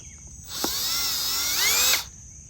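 Power drill driving a screw, a single close burst of motor whine rising slightly in pitch for about a second and a half before stopping abruptly, with no talk.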